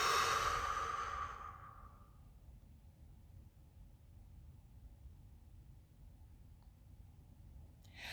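A single deep breath taken slowly during a guided meditation, heard close and fairly loud at first, then fading over about two seconds into near silence.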